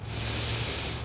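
One deep, steady inhale through the nose during Qigong breathing practice, a close breathy rush lasting about a second.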